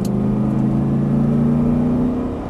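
A Lamborghini on a race track holds a steady, close engine drone with a low rumbling tone as it pulls straight through under throttle, easing slightly toward the end, with no talk.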